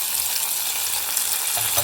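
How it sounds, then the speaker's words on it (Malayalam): Red chillies, curry leaves and mustard seeds frying in hot oil as a tempering, a steady dense sizzle and crackle throughout, close and fairly loud with no voices. "വറുത്തിടാൻ വേണ്ടിയിട്ട് ചുമന്ന മുളക്, കുറച്ച് കറിവേപ്പില, കടുക്, അത്രമാത്രം മതി"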